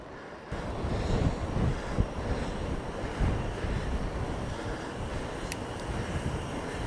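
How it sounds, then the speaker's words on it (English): Strong sea breeze gusts across a microphone by the shore, with a steady roar of wind and surf that rises and falls continuously throughout, loud and close. "it's really windy today"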